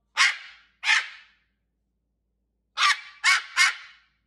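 Loud, close dog barks: two sharp barks, a pause of nearly two seconds, then three more in quick succession.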